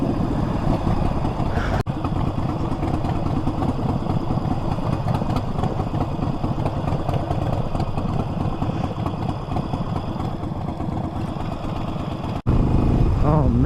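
A Harley-Davidson Forty-Eight 1200cc motorcycle rides through California traffic, its steady, loud, rumbling engine continuous and close throughout, with a brief dip in the middle and a voice speaking near the end.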